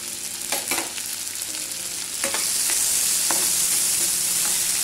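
Finely chopped onion frying in a pan for restaurant-style dal makhani, a steady broad sizzle that swells louder after a couple of seconds, with a few faint utensil scrapes and no talk.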